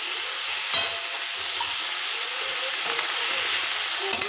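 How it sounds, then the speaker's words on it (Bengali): Prawns coated in salt and turmeric sizzle steadily in hot oil in a pan, a continuous close frying hiss with a few light clicks of stirring. "তো এই মাছগুলো এখন ভাজতে বসিয়েছি"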